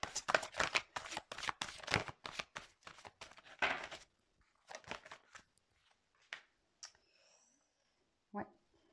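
Playing cards being tapped and shuffled at close range, starting with a quick run of crisp, dense riffling clicks and then slowing to a few scattered taps and slaps with quiet pauses between them.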